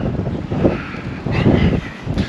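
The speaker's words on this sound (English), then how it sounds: "It's a little bit windy today." Wind gusting over a microphone at a rally on Gower's Bank Farm, a continuous rough rumble with swelling buffets and no talk.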